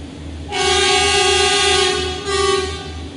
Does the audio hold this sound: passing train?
yes